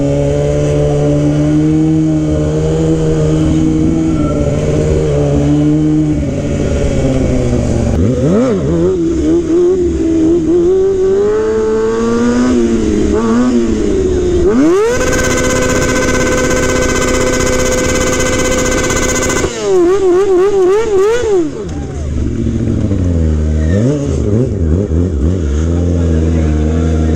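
A stunt motorcycle revving loudly while riding wheelies, its engine rising and falling through sweeping pitch changes with a sustained high-revving peak midway, close and continuous.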